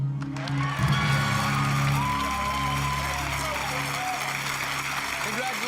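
Game show studio audience applauding steadily for a few seconds, a dense wash of clapping with a low musical tone underneath and a faint voice or two mixed in.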